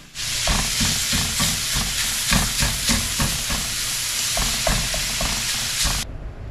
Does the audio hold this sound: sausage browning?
yes